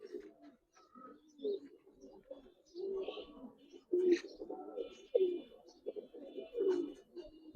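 Giribaz pigeons at a farm coo in low, throaty bursts, several birds overlapping in uneven repeated phrases close by, with occasional faint chirps and rustling between them.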